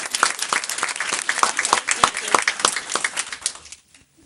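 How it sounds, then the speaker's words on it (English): An audience at a school board meeting gives a round of applause for students, a fairly thin crowd of distinct claps with audible individual hands, steady for several seconds, then stopping abruptly into quiet. "join me in a round of applause for these students"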